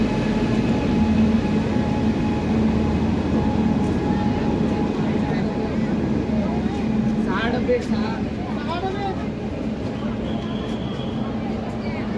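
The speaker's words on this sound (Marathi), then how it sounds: "झिरो एक चारशे एक्कावन्न Kalaburagi superfast express platform number तीनवरती Pandharpur येथे ऑन टाईम आलेली आहे" The 01451 Kulburgi Superfast Express rumbles at Pandharpur station, a steady close rolling drone of the train with a continuous hum, while voices chatter nearby.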